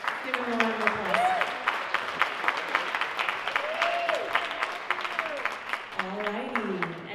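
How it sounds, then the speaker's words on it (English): Audience applause at the Viet Film Fest 2025 Trống Đồng Awards Gala, a sustained round of rhythmic clapping heard from within the room, moderately loud and steady throughout. "Give him a round of applause."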